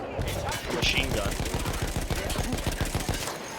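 Battlefield 1 combat with a German machine gun firing a long, rapid, evenly spaced burst of shots, loud and continuous, with other battle noise underneath.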